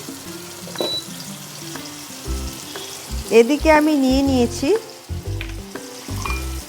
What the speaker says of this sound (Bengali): যতক্ষণ আমি পেঁয়াজটা হালকা করে ভাজছি